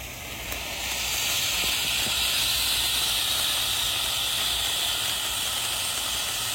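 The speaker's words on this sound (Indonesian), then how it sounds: "Lanjut yang kita nyalakan di sini ada Fantastic Fountain guys, air mancur pratek bola warna-warni" A Fantastic Fountain firework fountain, a colorful-ball fountain set off at night during Ramadan, hisses steadily and fairly close after being lit, a continuous bright rushing spray that swells in the first second and then holds.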